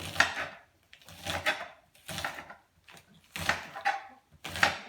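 A knife chops scallions thinly on a cutting board in a home kitchen, with five short, crisp bursts of chopping separated by brief pauses, close and clear with no talking.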